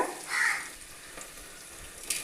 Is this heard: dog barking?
no